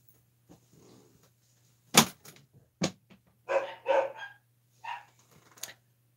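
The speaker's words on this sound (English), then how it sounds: "it also made the dogs go into a fit" Indoor dogs bark in a fit, several sharp, loud barks scattered unevenly with short bursts of yapping between, close by in a quiet room with a low steady hum underneath.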